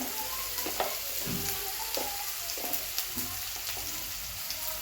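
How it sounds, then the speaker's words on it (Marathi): Whole masoor lentil masala roasting in a pan, a soft continuous sizzle with repeated scraping strokes of a spoon stirring at a steady rhythm, close and fairly quiet. "छान असं भाजून घेऊया सगळे मिक्स करून छान भाजलेलं आहे बघा"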